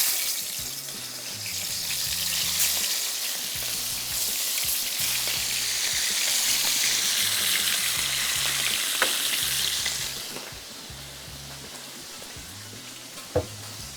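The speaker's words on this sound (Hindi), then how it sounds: "नमक लगाने के बाद सिंपल इसको हम फ्राई करेंगे" Fish frying in hot oil in a desi-style kitchen, a steady loud sizzle that stays dense and hissing for about ten seconds, then eases slightly, with a couple of sharp pops near the end and no voices.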